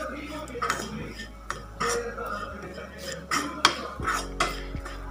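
Ground garlic and chilli powder being stirred in oil in a pan, with repeated scraping and clinking of a metal spoon against the pan in uneven strokes, close and fairly loud.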